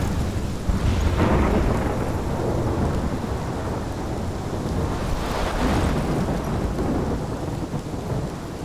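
Rumbling thunder over a steady wash of heavy rain in the Life is Strange video game, a continuous storm with swelling rolls of thunder and no voices.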